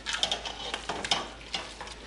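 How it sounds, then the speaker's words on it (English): A spatula scrapes and stirs venison chili meat in a pot, scraping stuck bits off the bottom in a few close, uneven strokes against a light sizzle, with no voices. "So really stir it up good and get any of the bits that are kind of stuck to the bottom of the pot off with your spatula"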